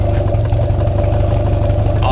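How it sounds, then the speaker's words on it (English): A boat's outboard motor, warmed up after about ten minutes, idles with a loud, steady low throb and is shifted into forward gear, holding a constant rumble close by. "motor's been running for about 10 minutes. It's still peeing, it's idling great."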